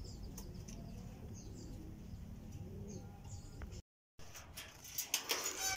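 Pigeons coo softly near a racing loft, with scattered chirps and wing flutters over a low background rumble. A short dropout follows, then closer rustling and clatter.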